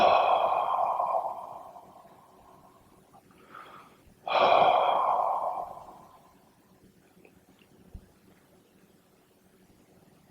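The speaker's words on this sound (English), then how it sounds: "Take 3 deep breaths," Two long, deep breaths taken by a group during a guided meditation, each a loud breathy inhale and sighing exhale, the second separated by a short pause, then quiet with a faint click.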